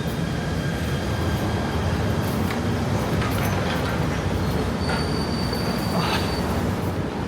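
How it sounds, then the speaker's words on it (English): A train pulling into a Kuala Lumpur station: a loud, steady rolling rumble of railcars with high squealing wheel and brake tones rising near the end, close by. "Oops, there's a train."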